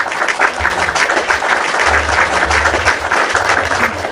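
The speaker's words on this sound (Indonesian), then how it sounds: "Itu kasih tepuk tangan" Audience applause in a lively discussion gathering, loud and steady clapping sustained throughout, with a low rumble underneath.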